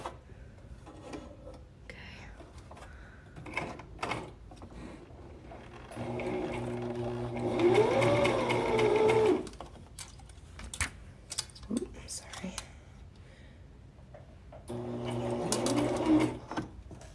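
A sewing machine stitching a tee with a twin needle runs in two short bursts of rapid whirring, each a few seconds long, between quiet fabric handling and clicks, with someone talking softly in between.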